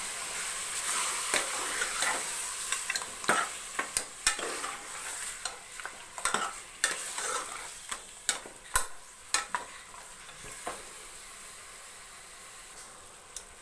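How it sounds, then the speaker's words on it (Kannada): Mutton for mutton sambar is stirred and fried in a spiced oil tempering, a soft steady sizzle broken by repeated scraping clicks of a spoon against the pan at an irregular rhythm, with no one speaking. "ಈಗ ಮಟನ್ ಒಗ್ಗರಣೆಯಲ್ಲಿ ಚೆನ್ನಾಗಿ ಮಿಕ್ಸ್ ಮಾಡ್ಕೊತಾ ಇದ್ದೀನಿ"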